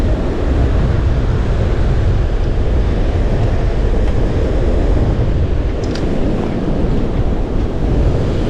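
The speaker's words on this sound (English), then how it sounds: "one more look at the crashing waves" Ocean waves crash on a beach at sunset as a loud, continuous roar of surf, mixed with heavy wind buffeting and no voices.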